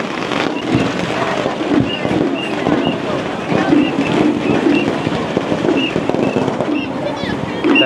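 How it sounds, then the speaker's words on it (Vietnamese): Firecrackers and fireworks burst repeatedly at an outdoor ethnic festival, sharp cracks and pops scattered through a loud crowded background with voices. "pháo nổ âm trời luôn."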